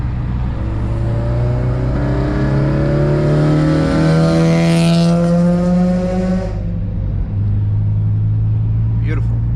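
A 2005 Acura TSX with catless headers, custom 3-inch single exit, Vibrant resonator and HKS muffler with titanium tip revs loudly and steadily near the microphone, its deep drone climbing in pitch before dropping back to idle.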